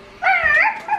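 A puppy gives a short, high-pitched bark and whimpering yip, close and clear, lasting about a second against a quiet background.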